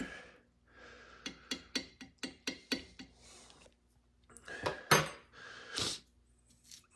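A spoon stirs a cup of dark, bitter North American-style hot chocolate, giving about nine quick, evenly spaced clinks against the cup. A few softer scrapes and rustles follow, close and fairly quiet.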